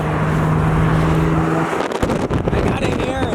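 A race car engine with a full race interior drones steadily, then cuts out and bursts into roaring acceleration with crackling, changing pitch as the car pulls away.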